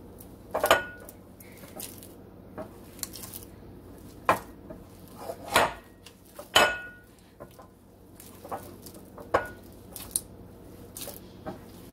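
Hands stir and squeeze a ranch and bacon cheese ball mixture in a bowl, giving irregular soft squishes punctuated by sharp clicks and knocks against the dish, close up with no talking.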